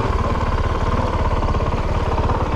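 A 2022 Honda CRF450RL dirt bike engine running steadily at low revs nearby, a loud, even thumping pulse with no talk.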